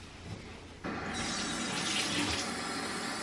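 A bathroom water tap runs steadily while someone washes their face, the flow starting abruptly partway in and continuing as a close, broad rushing hiss with no talking.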